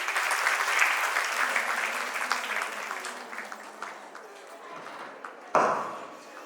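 Audience applause at a staged religious drama performance, a dense clapping crowd that starts loud and gradually thins and fades, ending with a sharper burst of sound near the close.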